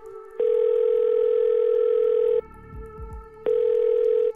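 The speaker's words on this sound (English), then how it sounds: "a disturbing phone call then comes through, and it's from the FCC" An incoming phone call sounds as two long steady electronic telephone tones, each lasting about two seconds with a short pause between, clear and loud.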